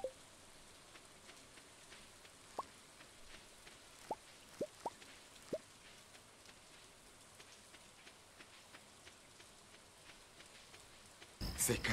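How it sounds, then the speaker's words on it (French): Stardew Valley rain falls as a faint, steady hiss, dotted with a few clear plinking drops, before a sudden loud burst of noise at the very end. "Oh! Il pleut!"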